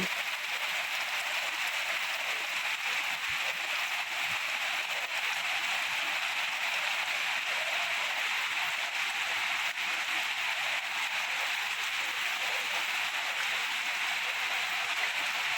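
A steady downpour of heavy all-day rain hisses evenly on nearby surfaces, with water running off, loud and unbroken without any voices.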